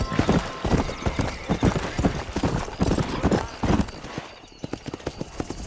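A horse gallops in the video game Red Dead Redemption, with fast, close clip-clopping hoofbeats and a brief neigh heard over the run.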